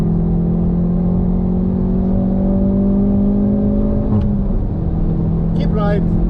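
Hyundai Veloster N engine held at full throttle on the Nürburgring Nordschleife, a steady, loud in-car drone with rising harmonic tones throughout and a brief shift-like break near the end, under a driver's coaching voice.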